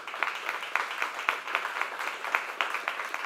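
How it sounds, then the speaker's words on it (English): Audience applause at a materials science lecture, a steady patter of many hands clapping with a dense, even texture, moderately loud and continuous throughout with no voices over it. "give them a round of applause."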